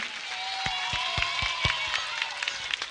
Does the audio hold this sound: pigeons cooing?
no